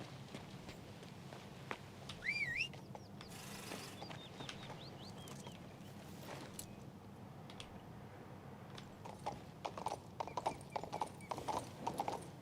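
Horse hooves clip-clop steadily with an occasional neigh in King's Bounty II, a fantasy video game, set against a low ambient game soundscape with faint bird calls and no talking.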